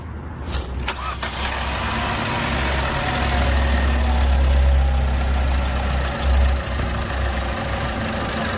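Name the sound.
car engine starting and idling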